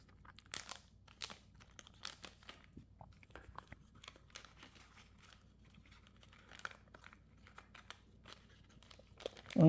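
Small jewelry boxes are worked into plastic zipper bags, giving a string of crinkling, rustling and tapping bursts, close and irregular, louder toward the end.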